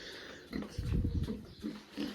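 A pregnant sow in a pig pen grunting in short, low, rough bursts close by, several grunts in quick succession with brief pauses between them.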